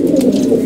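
A pigeon gives a single soft, low coo, close and clear, lasting under a second.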